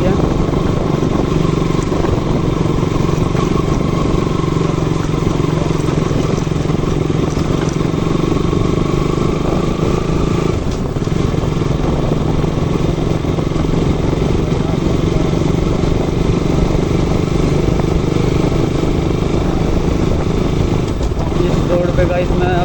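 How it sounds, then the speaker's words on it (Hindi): A motorcycle rides along a rough, broken road full of speed breakers, its engine droning steadily and close throughout while wind and road rumble run underneath, with someone talking over it. "रोड पे गाइस मैं अपनी बाइक पहली बार लेके जा रहा हूँ"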